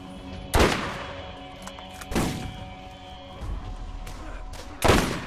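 Gunfire in the video game Borderlands: three or four loud, sharp shots spaced a second or two apart, each with a short booming decay, over a low steady background hum.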